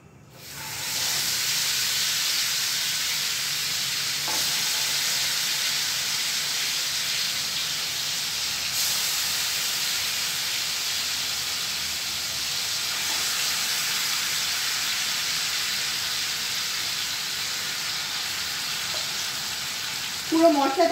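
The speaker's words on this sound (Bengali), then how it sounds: "এখন চিকেনের টুকরোগুলো এপিট ওপিট করে একটু ভেজে নেব।" Marinated chicken pieces fry in a kadai for chicken chaap with a constant loud sizzle and hiss. Now and then a faint knock of stirring sounds, and a brief clatter comes right at the end.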